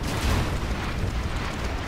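Bomb blast from an air strike landing on a quad cannon in a real-time strategy game replay, a broad rumbling boom filling the whole two seconds at steady loudness with no talk over it.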